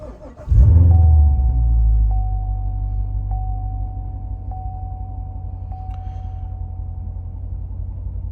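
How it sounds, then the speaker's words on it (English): A Corvette C7 Stingray V8 is started up close by with a quick crank and then a loud catch. The engine settles into a deep, steady rumbling idle that carries on alone to the end. "Let's start up the car."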